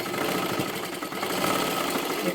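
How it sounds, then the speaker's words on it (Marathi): A sewing machine runs a straight stitch through fabric, set to stitch length five, as a steady loud mechanical whir that stays even with no pauses and no talk. "इथे सुद्धा मी पाच नंबरची शिलाई मारून घेतली"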